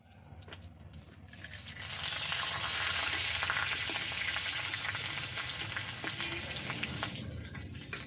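Bay leaves, a dried red chili and whole garam masala tempering in hot oil after fried bhola fish: a quiet start swells into a loud, steady hiss of sizzling oil with faint crackles.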